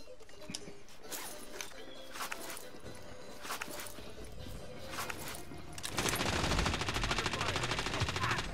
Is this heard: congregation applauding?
no